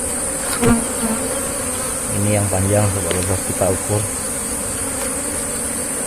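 Honey bees buzz steadily at a beekeeping hive, a continuous insect drone under someone talking nearby in a short burst of speech.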